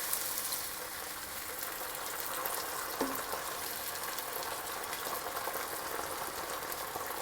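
Risotto simmering in a pan after a cup of stock is added, with steady, soft bubbling and faint sizzling continuing alone throughout, plus one small clink partway through.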